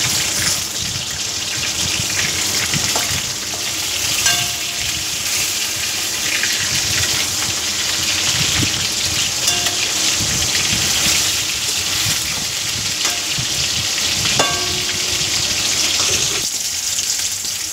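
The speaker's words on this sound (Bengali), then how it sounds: "তো মাছটা ভাজা হতে থাক।" Fish pieces frying in hot oil in a home kitchen, a steady loud hiss and sputter of crackling oil running continuously close up, with a few sharper pops and clinks scattered through.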